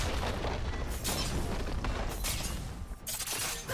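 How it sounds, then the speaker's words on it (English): A turret is destroyed in League of Legends with a booming explosion, followed by a few more thuds and pops layered over busy, continuous in-game noise. "Blue team's turret has been destroyed."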